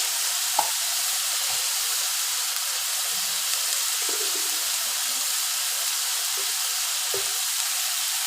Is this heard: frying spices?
yes